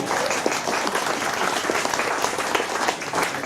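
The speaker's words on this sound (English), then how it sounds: "Give him a clap" A crowd claps steadily and fairly loudly for a few seconds, a dense patter of many hands with no voices standing out.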